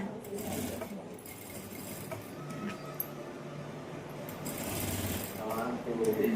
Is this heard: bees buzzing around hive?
no